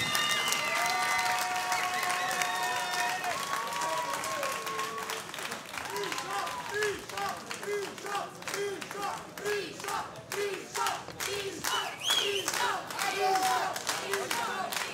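Applause and clapping from a home crowd at a DFN 4 fight night in Banská Bystrica after the fight result, a dense sustained roar of hands with some cheering, while an announcer speaks over it.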